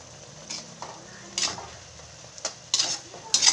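Pieces of papaya go into a pot of sautéed chicken for tinola: scattered clinks and clatters of a utensil against the pot over a faint low sizzle, close by.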